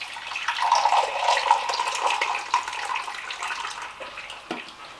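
Hot water pours steadily from a kettle into a container, a continuous close splashing stream that tapers off near the end.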